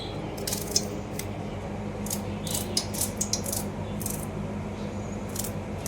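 A kitchen mixer grinder whirs steadily as it grinds small shallots for chicken biryani, giving a continuous loud drone with rattling bursts layered on top, and no talking.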